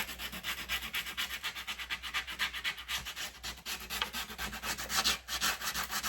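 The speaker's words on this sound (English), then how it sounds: "you can use a fingernail file" Rapid rhythmic rasping of a fingernail file worked back and forth along the edges of an Easter bunny craft piece, close and fairly quiet, with steady repeated strokes and no talking.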